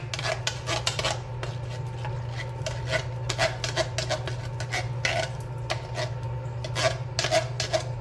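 A short spoon scrapes a 15-ounce can of pumpkin puree, giving repeated close rasping strokes in an uneven rhythm over a steady low kitchen hum.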